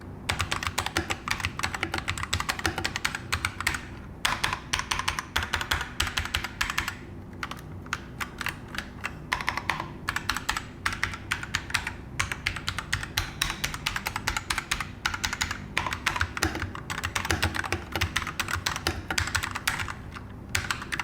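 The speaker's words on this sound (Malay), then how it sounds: "Jujur cakap, bagi aku bunyi dia tak adalah terlalu sedap, tapi selesa bila korang menaip." Typing on a Thunderobot mechanical gaming keyboard with red switches: rapid, close, continuous key clacks with brief pauses between bursts, heard alone without speech.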